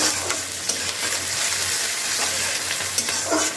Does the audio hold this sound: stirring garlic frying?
yes